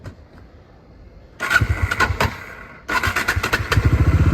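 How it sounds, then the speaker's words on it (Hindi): A motorcycle engine is cranked on the starter, catches, and then revs up loudly. Its rhythmic firing pulses stay close and strong through the rest of the clip. "अब मैं यहाँ से एक बार बाइक स्टार्ट करता हूँ"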